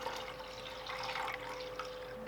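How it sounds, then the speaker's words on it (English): Cold water poured into a container while preparing kombucha, a steady close splashing and trickling wash that runs unbroken throughout, ending in a brief louder splash. "Adding water."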